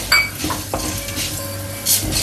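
Urad dal frying on low heat in a pan for curry leaf rice, a soft steady sizzle broken by close scraping and clinking of a spoon stirring against the metal.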